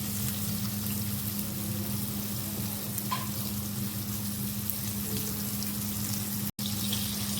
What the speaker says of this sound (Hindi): अब इस पे हम अपना दूसरा बैच डाल देंगे। और इसको हमने डबल फ्राई करना है।